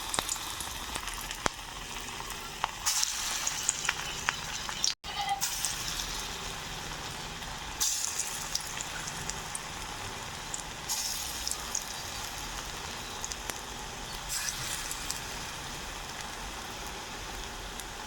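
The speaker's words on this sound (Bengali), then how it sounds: "তেলটা গরম হয়ে গেছে, এখন আমি দিয়ে দিব বড়া" Lentil fritters (dal bora) fry in hot oil, giving a continuous close sizzle with fine crackling that carries on for a long stretch, broken by one brief dropout; no talking.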